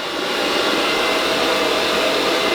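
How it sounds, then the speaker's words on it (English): A handheld hair dryer blows steadily at close range while hair is brushed dry, a constant even roar with no pauses or talking. "I'm gonna use some heat, because we gotta dry this."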